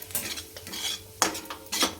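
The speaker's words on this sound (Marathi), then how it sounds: "हे जे आपलं बेसन पीठ आहे ते टाकून घेऊ ते भाजून घेऊ आपण" Gram flour roasting in a hot kadhai, a spoon scraping and stirring in short bursts with a few sharp metallic knocks against the pan, close and quiet, no talking.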